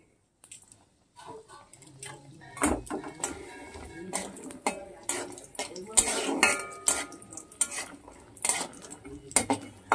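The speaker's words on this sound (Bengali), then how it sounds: "তার প্রথমে দেখো আমি বড়ি ভেজে নিচ্ছি" Bori lentil dumplings frying in a pan while being stirred, with irregular metallic clinks and scrapes of a utensil against the pan over a soft background, close and fairly quiet, with no talk.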